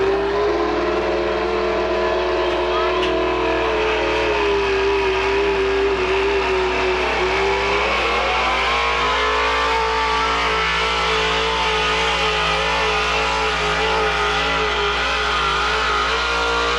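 A tractor-pulling truck engine revs hard and steadily through a truck pull run, the note dipping briefly midway before climbing again, loud and continuous with no talk.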